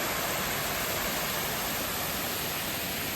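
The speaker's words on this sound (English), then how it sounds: "Really nice looking waterfall there." A waterfall fountain in the Singapore botanical gardens pours in a steady, dense rush of falling water, close and even throughout, with no voices.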